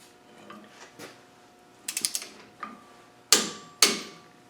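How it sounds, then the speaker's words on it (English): Torque wrench ratcheting hub bolts down on a white Land Rover 90 300Tdi hub, set to 65 Nm: close, crisp metallic clicks in short irregular bursts, with two sharper louder clacks near the end. "So we'll set the torque wrench on that one, and we're going to take these bolts down."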